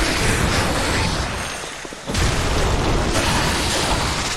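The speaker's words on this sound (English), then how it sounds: "he just kind of exploded" An enemy blowing up in Bloodborne, a loud dense roaring burst that dips briefly, then hits again with a sharp, sustained explosive rumble.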